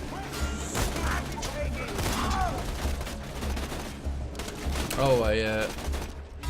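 Video game gunfire in Borderlands 2, with sustained volleys and bursts of shots rattling continuously alongside in-game effects and a brief voice exclamation, loud and dense throughout.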